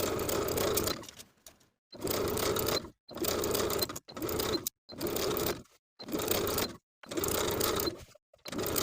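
A sewing machine stitches a sleeve into a garment armhole in a run of eight short bursts of steady whirring, each separated by a brief silent pause, fairly quiet and close.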